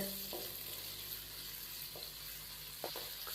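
Carrots frying in a pan on medium flame, a soft, steady sizzle with a couple of light stirring taps near the end, quiet and without voices.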